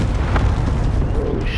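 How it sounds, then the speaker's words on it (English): Heavy, loud booming rumble of cluster strike explosions in Call of Duty: Modern Warfare, a dense, sustained low roar filling the short moment close by. "Enemy cluster strike incoming, take cover"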